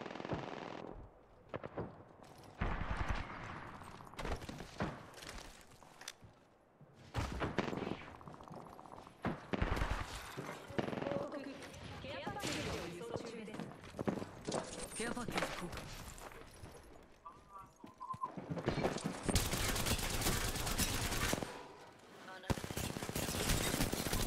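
Video-game gunfire rattles in repeated bursts of automatic fire and single shots, some sharp and near, some fainter, broken by short gaps, with voices talking over the action.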